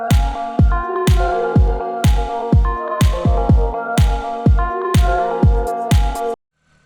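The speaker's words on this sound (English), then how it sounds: "So I'm gonna go ahead and fill this up with coolant" Coolant is poured from a container into the engine of a 300k-mile Toyota Matrix XRS, making about ten close, rhythmic glugs, evenly spaced, before stopping abruptly into silence.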